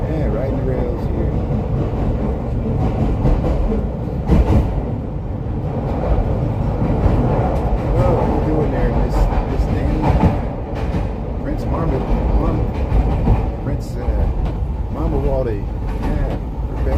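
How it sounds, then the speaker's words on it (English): Chicago CTA Blue Line train riding the rails from O'Hare toward the Loop, a steady loud rumble of wheels and carriage noise running throughout, with people talking over it. "Yeah, riding the rails here."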